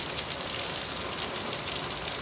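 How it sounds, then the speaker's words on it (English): A steady downpour of heavy rain hisses continuously outdoors, dense and even throughout, with no talking. "Rain, rain, rain."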